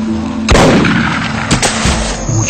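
A loud, close gunshot bursts out, followed by a second sharper crack about a second later over a steady background hum.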